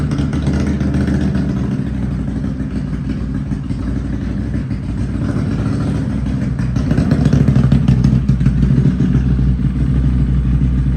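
A Can-Am Renegade ATV engine runs steadily after a clutch heat cycle, a loud, close, rough mechanical drone with clattery texture that rises slightly in intensity toward the end, with no talk.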